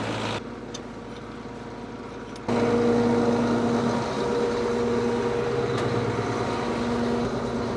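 An Allis Chalmers 210 tractor engine runs under heavier load after shifting up a gear, a steady close mechanical drone that jumps louder partway through and holds a constant tone to the end.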